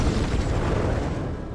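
A film explosion rumbles as a sustained, loud, low boom that fills the whole moment without any speech.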